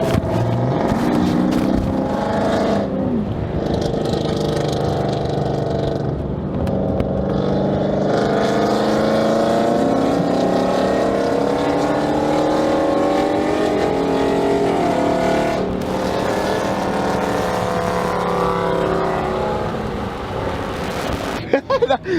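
Loud, raspy exhaust of a Dodge Charger R/T with long tube headers roaring continuously, rising and falling with revs, close by, with brief voices underneath.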